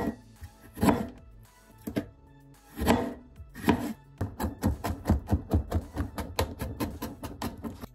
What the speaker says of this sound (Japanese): みじん切りにしていきたいと思います。